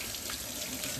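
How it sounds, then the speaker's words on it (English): A potato washed under a running kitchen tap, heard as a steady, dense rush of water splashing into a sink, close and continuous through the short stretch. "First, let's wash the potato."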